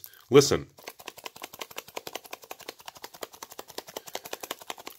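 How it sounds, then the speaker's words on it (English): Loose Magic: The Gathering cards from a counterfeit Mirage box rattle inside the box as it is shaken, a steady run of quick, light clicks close by after a short spoken word at the start. "Those are the cards themselves literally bouncing around in the box."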